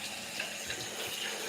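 Tap water runs steadily into a sink during a curly hair wash, a soft continuous broadband rush with faint splashes, no voices.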